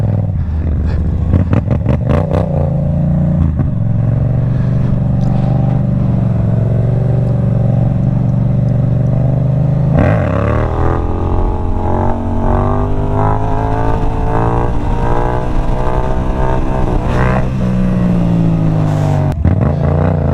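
A Yamaha MT-07 motorcycle's exhaust revs loud and close, rising and falling in repeated surges for about twenty seconds, with sharp throttle blips and harmonic climbs as the engine is pushed during wheelies.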